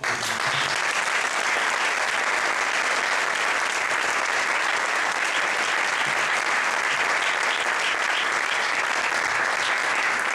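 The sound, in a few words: audience applause at an awards ceremony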